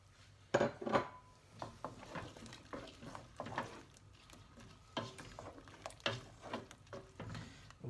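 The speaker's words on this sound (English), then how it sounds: "I'm going to add the green pepper and the red pepper and the spring onions" Chopped green pepper, red pepper and spring onions tipped into a pan of sweet and sour goose sauce, a quiet run of clatters, scrapes and stirring knocks against the pan, close and irregular.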